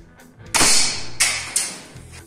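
Three sharp, snappy shots from a spring-powered SVD airsoft rifle, close and loud, the first followed by a brief ringing tail and the last two closer together.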